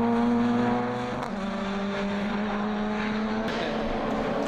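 Race car engines roar steadily at the Estoril endurance race, a loud sustained drone with strong harmonic tones that dip briefly, then carry on close and continuous without speech.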